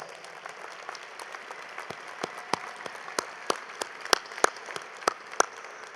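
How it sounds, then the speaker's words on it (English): Scattered applause from an audience at a university commencement ceremony, with individual claps standing out sharply over a thin wash of crowd clapping in a large venue, lasting several seconds. "Let's give them a round of applause."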